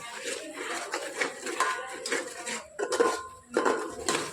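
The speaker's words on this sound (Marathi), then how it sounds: "आता छान परतून घेत आपण तिखट सगळ्या मसाल्यांमध्ये मिक्स होईपर्यंत" Chili powder and spices being sautéed in a pot for a large batch of amti, heard as repeated metal clinks and scrapes of a spoon against the pot, close and uneven.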